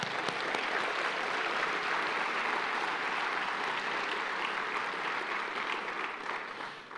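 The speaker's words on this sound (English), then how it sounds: "Let's give them all a round of applause." Sustained audience applause at a regional civic address in El Paso County, a thick, even roar of clapping hands that holds steady throughout before easing slightly at the end.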